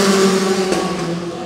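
Formula 4 race cars with 2-liter four-cylinder Renault engines shift up through the gears along a circuit's front straight at a 2017 Southeast Asia championship race, giving a loud, steady engine drone with a pitch break midway.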